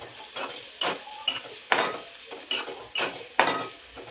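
Onion frying in oil in a home kitchen pan, a steady sizzle broken by about eight regular spatula stirs scraping through the pieces, close and fairly loud with no voices.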